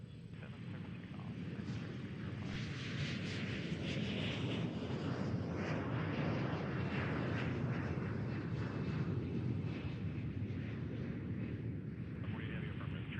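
A jet airliner taking off from runway 27 at CVG airport, its broad engine roar steady and loud throughout, with a faint voice briefly present.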